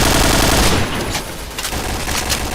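Rapid bursts of video game gunfire crackle loudly and continuously, a dense automatic volley that eases slightly after the first second.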